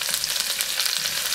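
Onion with celery sautés in a hot pan, a dense continuous crackling sizzle that stays loud and even throughout, with faint stirring underneath and no voices.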